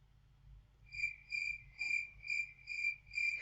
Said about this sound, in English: Let me get my crickets here.